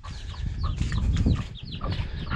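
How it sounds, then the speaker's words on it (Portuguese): Chickens cluck and squawk in short, scattered bursts in a farm corral over a low rumbling background, moderately close. "as galinhas já começaram a bagunçar"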